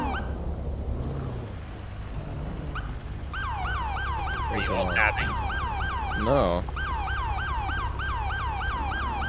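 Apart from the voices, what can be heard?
police car siren stuck on in FiveM GTA V game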